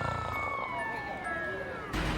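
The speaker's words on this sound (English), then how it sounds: "But sirens are just a lullaby to this Rip Van Winkle." A siren wails with a falling pitch, fairly distant, over low background rumble, followed by a sudden louder noise at the end.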